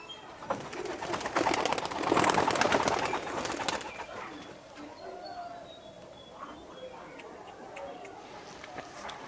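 Alibala pigeons give soft, low coos and rustling in a loft or cage, with a brief burst of flapping or scuffling near the start, while a voice talks intermittently over them.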